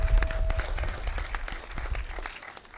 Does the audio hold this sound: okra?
no